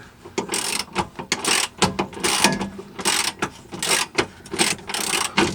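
Ratchet with an 18mm socket loosening a stubborn nut on a Ford Mustang GT's Panhard bar mount, giving repeated close, loud bursts of clicking in uneven strokes with brief pauses between them.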